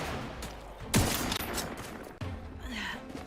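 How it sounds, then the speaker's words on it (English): Sniper rifle fire in The Outer Worlds 2 video game, one sharp close shot followed by a few softer blasts and ringing game effects, heard fairly quietly with no talk. "This is a pretty good sniper rifle, I will say."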